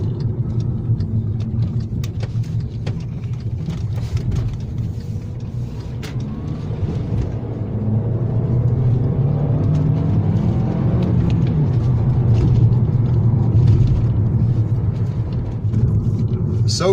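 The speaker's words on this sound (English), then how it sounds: "A planted drive, this car really does handle well." A Volkswagen Golf GT TSI car drives along with a steady low engine and road rumble heard from inside, continuous throughout and growing slightly louder about halfway through.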